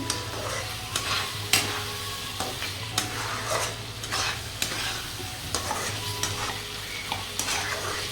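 Spice paste and chopped tomatoes stir-fried in a pan for a Bengali katla fish and potato curry, a steady sizzle broken by regular spatula scrapes and taps, close and fairly loud.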